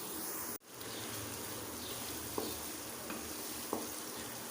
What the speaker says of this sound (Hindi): मसाले हम भून लेते हैं।